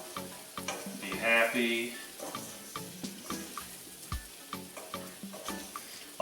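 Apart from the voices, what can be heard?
shrimp curry cooking in a pan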